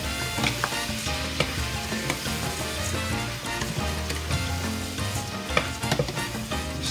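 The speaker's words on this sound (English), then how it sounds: "When you're making rice and beans, you have to stir it constantly for it doesn't stick" Rice and beans sizzle steadily in a pot while a spoon stirs them, giving a continuous close frying crackle with faint scraping and no talking.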